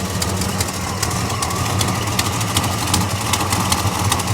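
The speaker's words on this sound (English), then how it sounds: "Little exhaust leak, I think, coming from the header there at the front" A 1969 Chevelle SS engine, not stock, idles with an exhaust leak at the front header, making a loud, close, steady rumble with rapid ticking puffs repeating evenly throughout.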